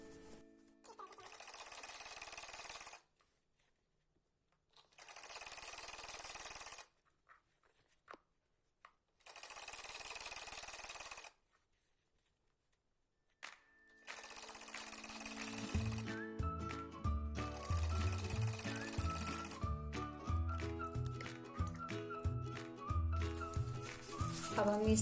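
A sewing machine stitches a salwar hem alongside buckram in three short bursts with pauses between, then runs longer with a steady rattling whir. A voice can be heard at times.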